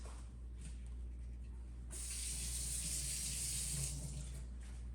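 Rinse water from a Gaggia Classic Pro espresso machine part is dumped into a sink, a quiet trickle giving way to a sudden louder rushing splash that holds for about two seconds before easing back.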